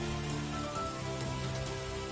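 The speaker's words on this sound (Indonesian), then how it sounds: "salah satu warga merekam momen hujan es di sebuah parkiran motor" Hail and heavy rain pelt a motorbike parking lot in Tebet, South Jakarta, making a dense, steady patter of drops and small impacts with no break and no voices.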